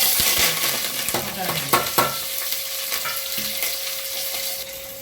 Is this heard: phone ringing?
no